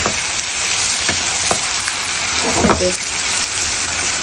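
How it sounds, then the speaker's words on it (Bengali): Cut boiled eggs drop into a frying egg and vegetable curry, and a constant crackling sizzle fills the pan with brief stirring knocks and a short burst of spattering partway through. "আমি যে ডিমটা কেটে রেখেছিলাম ওই ডিমটা এখন এর ভিতর দিয়ে দেবে"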